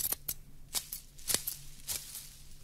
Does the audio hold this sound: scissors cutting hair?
yes